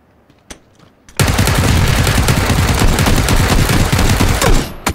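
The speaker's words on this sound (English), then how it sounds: "Where's he shooting me from?" Sustained automatic gunfire in PUBG Battlegrounds erupts after a brief quiet with a couple of isolated shots, then a loud, dense rapid burst continues for several seconds before tapering off.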